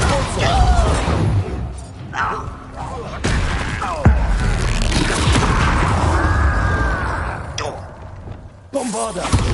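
Spell blasts in Hogwarts Legacy: several booming, shattering explosions land amid clattering combat noise, with a voice speaking between the hits.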